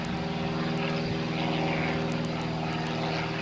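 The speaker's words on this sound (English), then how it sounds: "oh, there's an airplane in the sky" A propeller-driven airplane flies overhead during a June 1998 trip to Nauvoo, Illinois, producing a steady, continuous droning hum with a low tonal engine note. It carries on alone, with no talking, throughout the short outdoor stretch.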